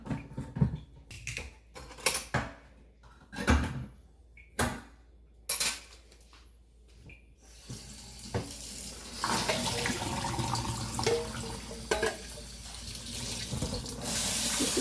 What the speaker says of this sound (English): and we're going to drain out the water.